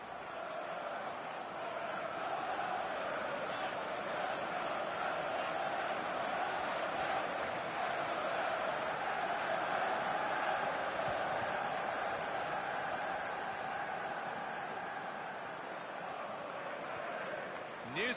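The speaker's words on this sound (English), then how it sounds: "The crowd's still buzzing" A stadium crowd in a FIFA 14 Premier League video game match keeps up a steady, continuous buzz of murmuring noise throughout, with no clear peaks or cheers.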